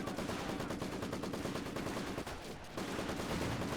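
Sustained machine gun fire in the World War II strategy game Company of Heroes, a dense, continuous rattle of rapid shots with a brief lull before the firing resumes, loud throughout with no talk.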